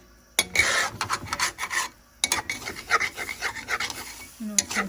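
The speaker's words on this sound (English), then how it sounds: "Scrape all that goodness." A spoon scraping the bottom of a pot of pork blood stew (dinuguan) in repeated rough rasping strokes, close and fairly loud with brief pauses, ending in a faint clink.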